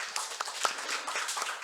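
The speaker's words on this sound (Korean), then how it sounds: "이동호 집사님, 우리 격려의 박수 하겠습니다." A church congregation applauds in encouragement during a Sunday morning service, giving a brief, dense patter of many hands clapping at moderate volume, with no voice over it.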